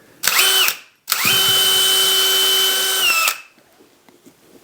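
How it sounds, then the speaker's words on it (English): A power drill bores a pilot hole with two whining bursts: a brief spin, a pause, then a longer steady drilling run of about two seconds that winds down, followed by quiet room noise. "We're going to drill a pilot hole"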